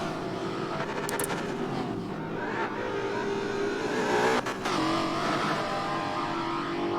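Race car engine accelerating in the Forza racing video game during a spec series race, a steady loud engine drone with rising revs and a brief surge near the end, continuous throughout.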